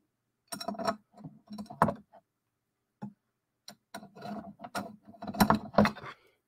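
A wrench turns and tightens frame bolts while a Creality laser engraver is assembled, giving close, irregular metallic ratcheting clicks and scrapes in short bursts with gaps between them.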